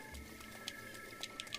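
Rain patters steadily in Zelda: Breath of the Wild, a faint, even hiss of falling drops broken by a few soft, scattered ticks, with no voices.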